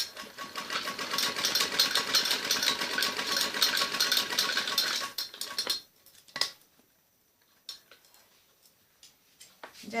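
A sewing machine runs fast, stitching a strip of fabric for an umbrella frock with a loud, rapid mechanical clatter for about six seconds. It then stops, leaving a few quiet clicks and fabric handling sounds nearby.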